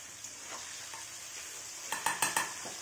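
Onions frying in a pan for chicken biryani are stirred with a utensil, a soft steady sizzle under a few scraping strokes, then a quick run of four louder clinks and scrapes near the end, with no talking.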